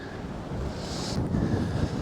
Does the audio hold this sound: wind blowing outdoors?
yes